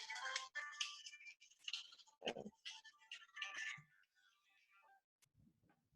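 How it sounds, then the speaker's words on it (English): An electronic phone ringtone plays a bright, warbling melody for a few seconds, then cuts off, leaving near silence with faint low rustling. "How come it's ringing?"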